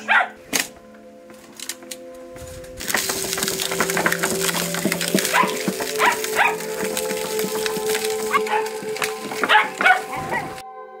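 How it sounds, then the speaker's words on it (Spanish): Several dogs barking in a rural hillside village in El Salvador, sharp repeated barks near and far over a busy background of rustling and knocking, with faint distant calls. "¡Perro! ¡Perro! ¡Estos perritos!"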